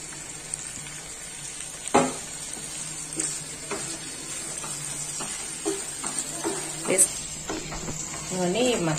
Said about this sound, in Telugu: ఇప్పుడు ముందుగా మ్యారినేట్ చేసి పెట్టుకున్న ఈ చికెన్ వేసేసుకోవాలి